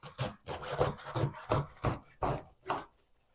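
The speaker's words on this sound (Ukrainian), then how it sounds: "У мене пекінська капуста, взяла її половинку і наріжу дрібненько" A knife finely chops half a head of Chinese cabbage on a board while making homemade chicken shawarma, giving a close, steady run of about eight crisp, evenly spaced cuts with no talking.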